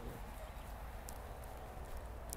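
A horse walking at a slow pace during a riding lesson, soft hoofbeats under a constant broadband hiss, faint and evenly paced throughout.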